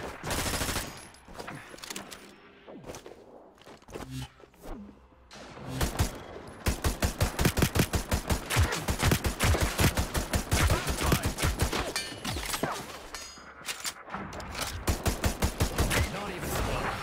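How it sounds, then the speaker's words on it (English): Rapid bursts of automatic gunfire in a multiplayer video game, sharp repeated shots in long fusillades with short pauses between, fairly loud against quieter game ambience. "Someone's shooting."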